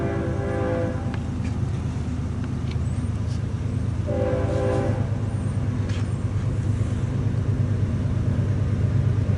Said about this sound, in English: Got a westbound port stacker about to pass.